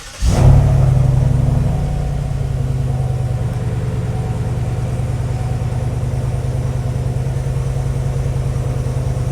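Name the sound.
pickup truck engine starting and revving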